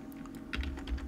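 Quick keystrokes tap on a computer keyboard in a short, close burst, a few soft clicks followed by firmer presses, with no talking.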